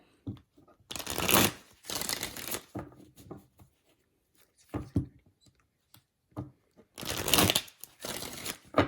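Tarot cards are shuffled in several quick riffling bursts separated by quiet pauses and soft handling sounds, close up and with no voices.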